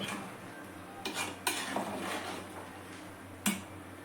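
Coconut curry being stirred in a pot, with a few soft scraping knocks of the spoon against the metal and one or two sharper clinks, all fairly quiet in a still kitchen.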